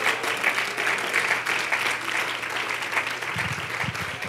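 A church congregation claps their hands during a Sunday service, with sustained, full-room clapping throughout and a low hum beneath that rises in the last second.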